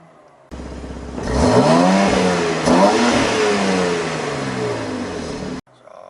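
A 2020 BMW X3 M engine revs hard in sport mode, climbing and falling in pitch twice with a loud, throaty roar, then cuts off abruptly.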